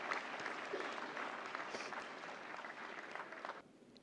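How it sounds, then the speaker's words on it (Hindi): An audience at the National Film Awards ceremony claps in sustained applause for about three and a half seconds before it cuts off abruptly. "जोरदार तालियों से स्वागत करें गंगूबाई काठियावाड़ी की टीम का।"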